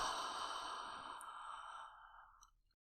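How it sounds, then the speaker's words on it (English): A long, slow exhale out through an open mouth during a guided breathing exercise, a close, breathy sigh that fades out over about two and a half seconds. "And open your mouth and let it out"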